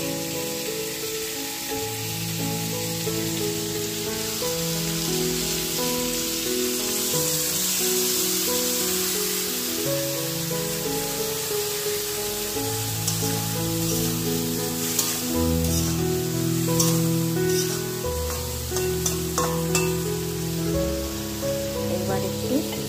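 Spice paste mixed with water goes into a frying pan for a pointed gourd and prawn curry, setting off a steady hissing sizzle that continues over soft background music.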